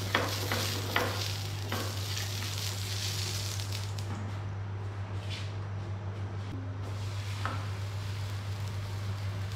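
Hot tawa heating for a paratha gives a soft continuous sizzle with light scraping and rustling, a low steady hum beneath, no talk.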